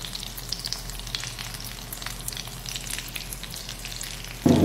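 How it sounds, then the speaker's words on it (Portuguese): Tomatoes fry in a pan with a soft continuous sizzle and scattered pops, fairly quiet and close, ending in a sudden louder clatter as if a lid or utensil is handled; no one speaks. "A gente vai deixar fritar"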